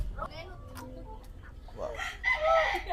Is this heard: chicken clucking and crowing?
yes